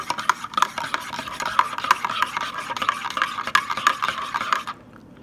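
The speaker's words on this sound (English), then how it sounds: "Giving it a good stir," A spoon stirs a freshly made morning drink in a cup, with quick, regular clinks and scraping against the sides that go on for several seconds close up, then stop abruptly.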